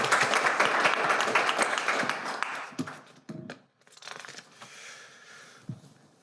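Applause from an audience at a school governing board meeting honoring award finalists: dense clapping for about three seconds, then thinning into scattered claps and rustling before fading out.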